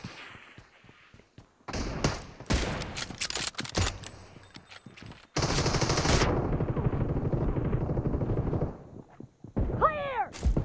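Automatic gunfire in the PUBG video game during a team deathmatch, scattered bursts of shots near and far, followed by a dense noisy stretch and a few sharp ringing effects at the end, fairly quiet overall.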